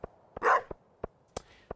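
A dog barks in the farming video game Stardew Valley, giving one short muffled woof-like burst among a series of soft, regular tapping footstep clicks. The game sound is close and clean, with no talking.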